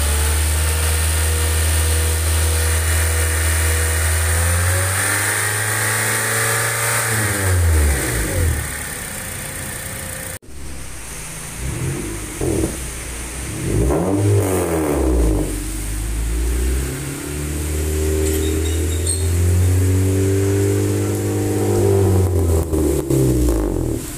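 A 2010 Honda Accord 2.4 engine revs up and falls back in repeated swells, rising from idle to higher pitch several times, loud and close with a brief cut midway.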